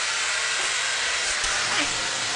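A Dyson Airwrap blows air to dry hair, a steady, loud broadband whoosh that runs unbroken throughout.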